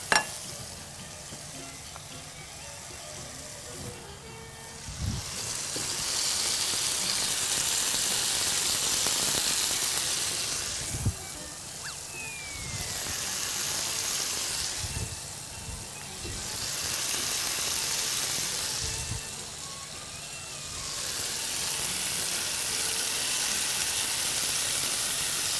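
Fish frying in a pan of hot oil, a loud continuous sizzle that swells and eases in waves, with occasional clicks and scrapes of a fork turning the pieces, no voices.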